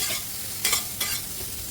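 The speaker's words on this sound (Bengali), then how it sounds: "দিয়ে একটু ভালো করে নেড়ে নেব" Bottle gourd and egg fry in a pan with red chilli powder, sizzling softly as a spatula stirs them, with two brief, louder scraping strokes mid-way.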